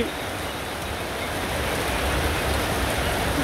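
Heavy rain with large drops pours down steadily over a roadside market in Jhenaidah Sadar, a dense, unbroken roar of water that stays loud and even from start to finish, with no voices.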